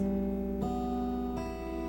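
Acoustic guitar fingerpicked in a P-I-M-A pattern across the 6th, 3rd, 2nd and 1st strings, soft notes ringing and overlapping in a gentle steady arpeggio, with two clear changes of chord, played close and quiet.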